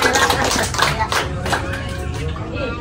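Audience clapping for a singer at a temple Pujawali ceremony, loud and close, with scattered claps and taps over a murmur of voices throughout.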